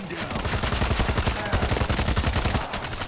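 Rapid automatic gunfire rattles in the zombie shooter World War Z Aftermath, a fast, even stream of close, loud shots lasting about three seconds with some faint background voices.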